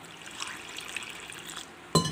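Water poured into a bowl of soaking semolina, a soft close trickle and splash running steadily for nearly two seconds, then a sharp clink of a vessel at the end.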